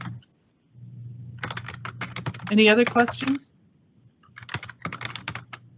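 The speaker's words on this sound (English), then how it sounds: "Again, we're hearing typing, so whoever's typing, please mute." Keys clatter on a computer keyboard during an online council meeting, a quick, moderately near run of taps in two bursts, with a voice speaking briefly over the typing.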